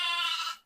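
A sheep in a pen with a packed-earth floor gives one short, close bleat that fades out quickly.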